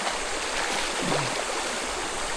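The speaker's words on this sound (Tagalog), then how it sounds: "Sarap pong pakinggan ng mga puno ng ilog. Ng agos ba?" A river stream flows through a mountain forest as a steady, broad rushing wash of water, constant and fairly close, with no talking.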